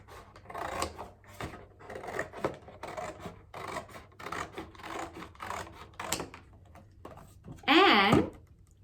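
Scissors cut along a scored line in cardboard while a book or magazine holder is being made. Repeated close rasping snips come in uneven bursts, with a sharper, louder cut near the end.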